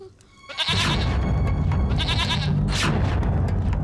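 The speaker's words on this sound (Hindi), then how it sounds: "वो बकरी देख रहे हो तुम?" A goat bleats loudly and close up in a few wavering calls, each following quickly after the last, with a dull background rumble.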